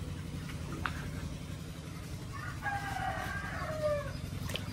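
A rooster crows once at a distance on a rural farm, the call drawn out over a low steady background hum.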